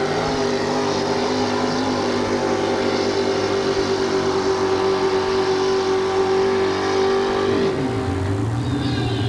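A 1967 GMC pulling truck with a 431 engine roars at wide-open throttle in a sustained, loud drone at an indoor truck-pull, its pitch holding steady before dropping sharply near the end as the engine bogs down.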